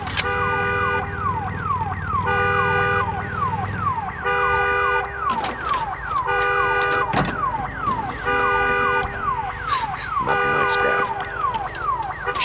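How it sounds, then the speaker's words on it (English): Car alarm on a vehicle in the video game Days Gone, a loud repeating electronic siren cycling through warbling and whooping patterns for the whole stretch, with brief sharp impacts mixed in and no talk. "Some vehicles have alarms. And they, of course, are noisy and will draw the attention of the freaks."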